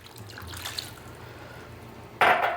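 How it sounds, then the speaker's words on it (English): Water is poured into a casserole dish of pasta, meatballs and marinara sauce: a quiet kitchen backdrop, then a sudden close splashing pour in the final half second. "I have to add 3 cups of water, so I'm just gonna add some in here."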